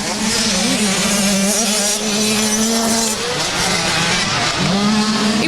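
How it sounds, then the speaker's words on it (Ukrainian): Motocross motorcycles race around the Chernivtsi SuperCross track during a Ukrainian championship round, their engines roaring loud and close, revving up and down in continuous overlapping drones. "Просто зараз тут уже ревуть двигуни"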